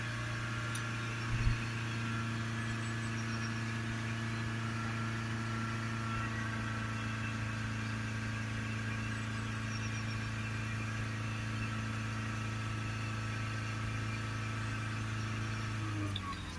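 A Range Rover Evoque 2.0 diesel engine held at a steady raised speed of about 3000 RPM, with a constant mid-pitched drone and hum running unbroken and fairly loud throughout, with no talk.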